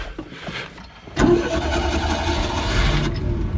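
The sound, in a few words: flooded old Bombi engine starting up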